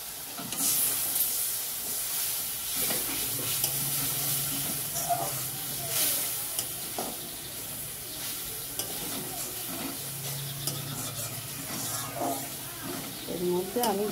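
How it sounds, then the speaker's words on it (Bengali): Spice paste stirred and frying in a pan for a Bengali lau bori chorchori, with a steady sizzle and scraping stirs over the full stretch while someone talks over it. "মশলাটাকে আমি একটু ভালো করে নেড়ে চেড়ে ভেজে নিচ্ছি"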